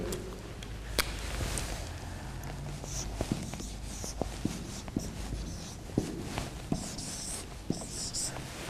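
Marker scratching and tapping on a classroom board, with short strokes and occasional clicks scattered over a quiet room background.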